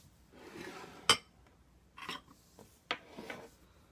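Metal spoon scraping and clinking against a container while stirring thick homemade three-ingredient paint, a few separate rasping strokes with sharp taps between them, close and fairly quiet.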